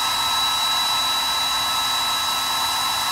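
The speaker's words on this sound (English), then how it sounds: "I don't know if it was the hair dryer that blew that or what" A hair dryer blows with a steady, even, high-pitched whoosh and whine, running continuously at one level and close up, with nothing else heard over it.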